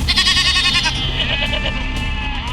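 Goat bleating loudly and close, one long wavering cry that trails off into a second quieter bleat, with rumbling background noise throughout.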